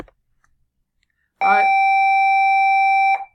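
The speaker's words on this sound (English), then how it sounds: "Sorry, the bell just rang" A doorbell rings once after a short silence, a brief rattle followed by a sustained bright electronic tone that holds for nearly two seconds, then stops.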